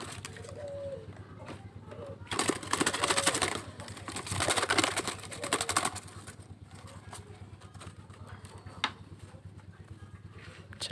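Zebra doves (perkutut) being readied for shipment to Cikampek coo in soft bursts, loudest in a dense stretch mid-clip, against a faint steady background hum.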